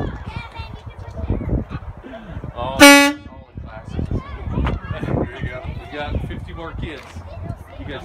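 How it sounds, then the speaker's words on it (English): A single loud blast of a truck air horn, about half a second long, cuts through people talking and moving around. "Where's the air horn?"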